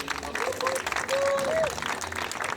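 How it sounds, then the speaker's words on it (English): Audience applause at the British Street Food Awards ceremony, steady and fairly close for the whole stretch, with voices and a cheer or whoop rising over the clapping. "Please have a round of applause."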